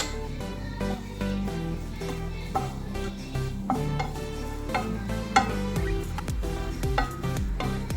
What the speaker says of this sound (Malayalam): ഇതെല്ലാം കൂടി നമുക്ക് നന്നായിട്ടൊന്ന് മിക്സ് ചെയ്യാം.